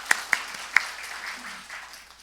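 A few sharp claps ring out, then a short burst of scattered applause from a small church congregation during a Sunday service fades away.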